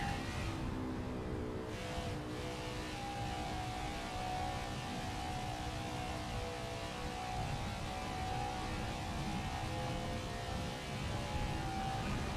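A steady, droning NASCAR stock car engine in the video game NASCAR 21: Ignition holds a constant high whine for the whole stretch, loud and continuous with no voices over it.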